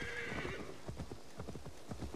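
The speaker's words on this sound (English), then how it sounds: "Call the horse." In the Assassin's Creed Valhalla video game, a horse gives a high neigh, then gallops in with quick, rhythmic hoofbeats at moderate loudness and no talk over it.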